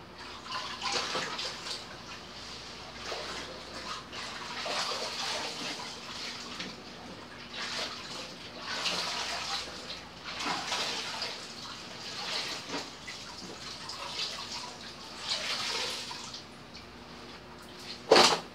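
Water runs and splashes continuously during hand-washing of laundry, a steady close rushing with swelling surges of sloshing and a brief louder clatter near the end, and no voices.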